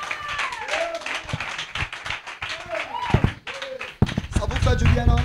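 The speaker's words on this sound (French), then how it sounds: "Let's clap for Jesus Christ." A church congregation claps along in praise to Jesus, the sharp, irregular hand claps mixing with voices and music. The clapping swells into a loud, dense burst near the end.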